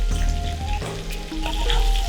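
New winter potatoes seasoned with turmeric and salt fry in hot oil, a steady, close sizzle and crackle running the whole time with no voices.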